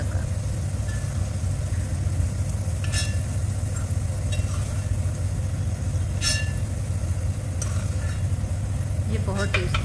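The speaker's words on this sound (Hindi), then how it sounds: "इसको मैं दूसरे बर्तन में ट्रांसफ़र करके और इसमें भी मैं लगा दूँगी चने को तड़का।" Chickpeas hiss and sizzle in a hot pan as a spice tempering is stirred in, a steady frying noise with occasional utensil clinks and scrapes over a low hum.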